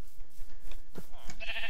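A sheep in the Minecraft video game bleats in short, close calls against quiet in-game background sound, with no one talking.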